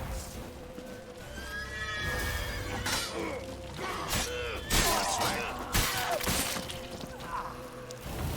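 A horse neighs and whinnies in The Witcher 3 amid the crashes and thwacks of a fight, loud and close, with no talking.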